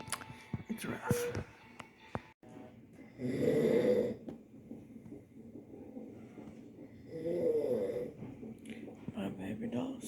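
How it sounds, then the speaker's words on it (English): A newborn baby snores softly while sleeping, two drawn-out, raspy breaths a few seconds apart, faint and close, with quiet background rustling between them. "He needs that snore. He needs that sleep."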